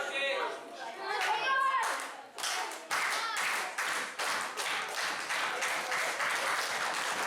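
A wrestling crowd at an SWE show claps along in a rhythmic beat that steadies and quickens, mixed with cheering and young voices shouting at the start.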